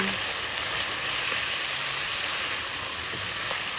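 Chicken curry with pepper frying in a pan, a steady broadband sizzle running throughout with faint scraping from stirring, close and even in level, no talk.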